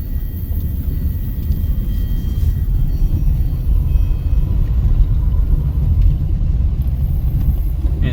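A car driving along a road past a pond and trees in Florida, heard from inside as a steady, loud low rumble that holds evenly throughout with no voices.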